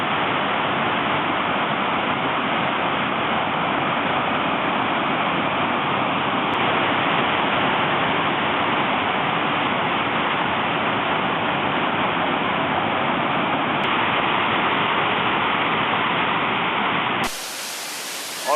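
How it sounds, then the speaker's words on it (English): A 25-metre waterfall in Vietnam pours down during an abseil, a loud, constant roaring rush of water close to the microphone that continues unbroken before cutting off near the end. "We ended up abseiling down a 25-metre high waterfall"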